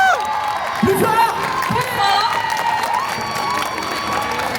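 A crowd at the Paris Manga convention applauds, cheers and whoops, the clapping loud and continuous with excited shouts rising over it.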